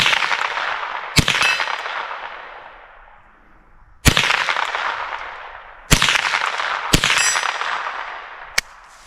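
.22LR Ruger 10-22 rifle shots ringing off a steel target, five sharp cracks each followed by a long metallic clang that decays slowly, irregularly spaced, no talking.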